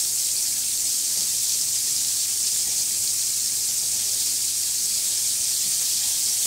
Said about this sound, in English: We're going to go ahead and add that in here. And we're going to scrape up all those brown bits in the bottom of our pan